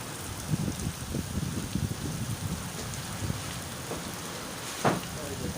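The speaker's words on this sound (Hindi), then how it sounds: "दोस्तों देखें कितना तेज़ बारिश है" Heavy rain pours steadily outside, heard from indoors in a room as a dense, continuous hiss with scattered louder splashes and a low rumble, fairly faint and even throughout.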